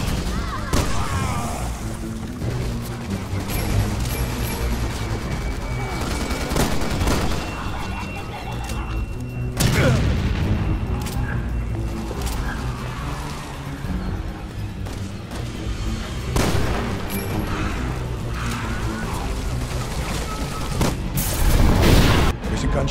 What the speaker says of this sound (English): Someone shoot the gas! We can blow these things to Kingdom Come!